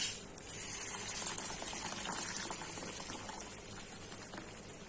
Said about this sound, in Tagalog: Ito na mainit na tubig.